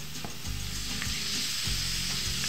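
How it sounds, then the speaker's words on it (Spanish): Diced bacon and smoked pork chop frying in a pan for carbonara, a loud continuous sizzle with rhythmic scraping stirs cutting through, close up and without speech. "Sofreímos nuestra chuletica ahumada con la tocineta."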